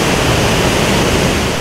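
Cachoeira das Araras, a waterfall inside the Amazon forest, roaring as a loud, steady, broadband rush of falling water with no pauses and no voices.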